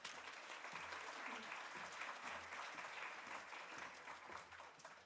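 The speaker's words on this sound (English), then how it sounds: "Let's give her a round of applause." Steady applause from an audience at an evening civic discussion event in St. Louis, many hands clapping evenly and continuously, moderately distant and fairly quiet, with a hint of murmuring underneath.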